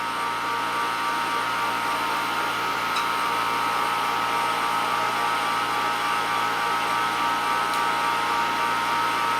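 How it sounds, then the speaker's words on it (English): A steady high-pitched mechanical whine from a turbo vacuum pump running at speed, with a constant motor-like drone underneath and no breaks or changes in pitch. "Turbo pump is online now."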